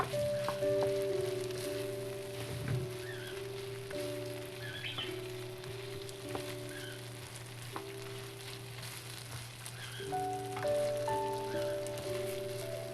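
Ground beef and chilies frying over a high flame, a steady crackling sizzle throughout with faint, sustained background tones and no talk.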